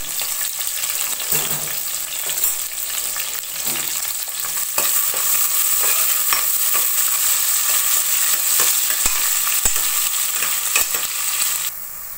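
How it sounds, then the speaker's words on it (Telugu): Onions fry for prawn biryani in a pressure pan, giving a steady loud sizzle with scattered clinks and scrapes of stirring, ending in a slight drop in level; no one speaks. "ఉల్లిపాయ వేగిందండి."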